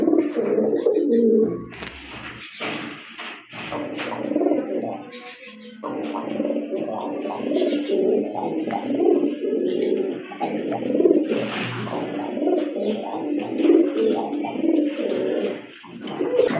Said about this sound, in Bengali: আরেক জোড়া কবুতর রাজগোল্লা কবুতর